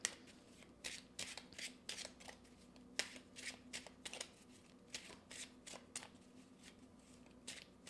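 Playing cards shuffled by hand before a card is drawn, a run of crisp riffling bursts at a brisk, fairly regular rhythm, close and soft, with nobody talking.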